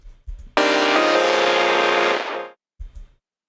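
A loud, buzzy distorted synth swells in for about two seconds and fades out, framed by short low thumps before and after.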